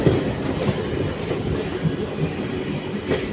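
Delhi Intercity Express train running on the Panipat line, a steady loud rumble of wheels on rails with faint rhythmic clatter throughout, heard from on board or close by.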